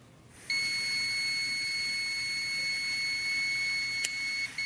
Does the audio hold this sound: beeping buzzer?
yes